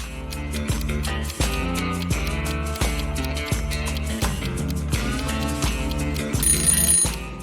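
Telephone ringing in a riddle game-show segment, a bright repeating ring pattern riding over a steady rhythmic musical backing, loud and continuous throughout.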